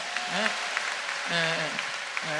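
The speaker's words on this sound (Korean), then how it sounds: "우리 그분들 다 치료받고 가시라고 우리 박수 한번 쳐드리겠습니다" At a healing service, a congregation claps while a voice rings out over the hall, the applause a soft continuous patter under sung or exclaimed tones, fairly distant and reverberant.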